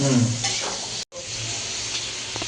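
Onion frying in a pan for lemon butter chicken, a steady, close, loud sizzle and hiss with stirring scrapes, briefly cutting out for a moment before the frying noise resumes.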